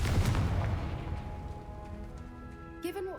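A Confringo spell explosion in Hogwarts Legacy, a deep booming blast at the start that rumbles and decays over a few seconds into a lingering tonal ring, with a brief sharper burst near the end.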